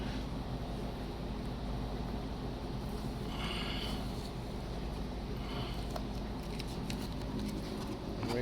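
Plastic primer is sprayed from a can into a seat pocket on a Citation V aircraft, giving soft bursts of hissing over a constant loud background noise.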